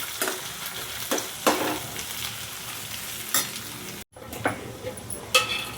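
Freshly pounded ginger garlic paste frying in a pan, a steady close sizzle with repeated scraping stirs spread through, a short gap near the end, no voices.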